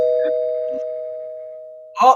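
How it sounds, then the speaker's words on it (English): A doorbell ding-dong tone rings as a single steady chime, then a brief louder burst of voices near the end. "I got the doorbell."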